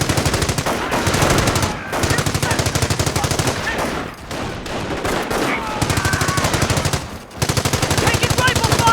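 Rifle and machine gun fire in the Company of Heroes video game, loud sustained rapid bursts with short pauses between them, dense and continuous across the scene, with voices faintly mixed under the shooting.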